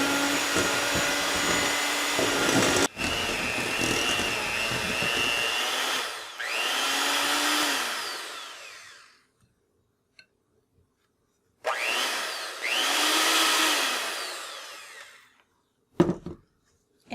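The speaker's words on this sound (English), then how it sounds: "Now you'll need a mixer, and then you'll mix all the ingredients together." An electric mixer whirs through gingerbread cookie dough ingredients in a home kitchen, running loud and steady in two long bursts separated by silence, with a couple of short clunks near the end.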